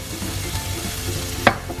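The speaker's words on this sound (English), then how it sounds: "coming to about almost 2 minutes of frying" Ginger fries in a pot with a soft, steady sizzle and faint crackle, broken by one brief clank of stirring near the end.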